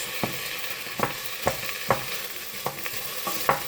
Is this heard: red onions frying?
yes